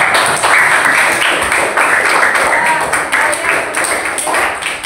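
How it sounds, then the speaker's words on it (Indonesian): A classroom of schoolchildren clapping for their teacher, loud close clapping that is continuous and slightly uneven, with voices mixed in. "Ibu berikan apresiasi untuk kalian. Tepuk tangan."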